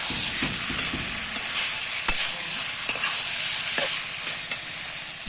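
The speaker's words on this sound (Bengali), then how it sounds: "মাংস কষাতে ডিম দিলে মাংসের টেস্ট কমে যায় এর মধ্যে লবণ হলুদ লঙ্কার গুঁড়ো সব দিয়ে দিয়েছি" Meat is sautéed in a pan with salt, turmeric and chili powder, giving a steady sizzle broken by scraping stirs and soft clinks of the spoon, close and with no talking.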